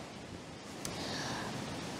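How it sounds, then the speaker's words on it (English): Stream in full flow at Padley Gorge, a steady broadband rush of running water filling the whole moment continuously, close and fairly loud, with a brief small click partway through. "The noise you can hear in the background is the stream"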